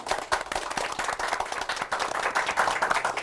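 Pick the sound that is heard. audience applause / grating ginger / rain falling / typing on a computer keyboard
audience applause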